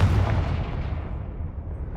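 A Confringo fire-blast spell explodes in Hogwarts Legacy, a single deep booming burst with a rumbling low tail that decays over about two seconds.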